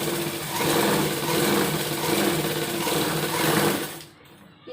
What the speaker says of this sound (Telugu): ఇలా ఒక స్టిచ్ వేసుకున్న తర్వాత నెక్స్ట్ ఫోల్డ్ చేసుకొని సెకండ్ స్టిచ్ చేసుకుంటే